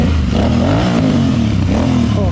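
A Yamaha R15 V3 motorcycle engine rumbles loudly up close, its pitch rising and dipping as the throttle is blipped, with a voice partly mixed in.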